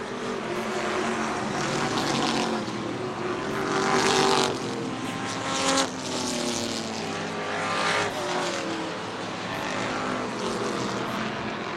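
Race cars accelerate hard out of turn 4, several engines roaring and whining in overlapping passes that swell and fade, loud and continuous with a few sharper surges.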